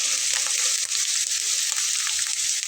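Prawns tossed into hot oil for a Bengali taro root curry hiss and crackle in a steady, bright sizzle, close and continuous with a few soft stirring scrapes.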